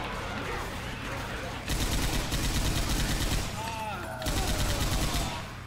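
Sustained, rapid bursts of M60 machine gun fire in Left 4 Dead 2, loud and close, coming in long rattling volleys with brief pauses and other game noise underneath.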